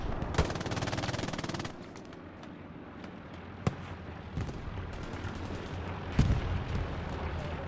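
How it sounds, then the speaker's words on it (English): Machine gun fire in the online shooter Hell Let Loose, with a sustained rapid burst at the start followed by scattered single shots and distant gunfire in the background of a competitive match. "Kapka jumps over the wall and immediately gets MG'd."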